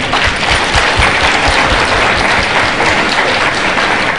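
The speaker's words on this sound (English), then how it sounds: "I would like to request all the participants to give a warm applause to all the discussants here present today" Participants at a conference applaud the discussants, a loud, close, continuous wash of many hands clapping that holds steady throughout without talk.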